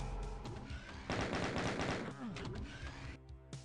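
Chaingunner enemies in Doom TNT: Evilution blast rapid bursts of chaingun fire, dense and continuous gunshots layered with other game effects, loud and close throughout the short stretch.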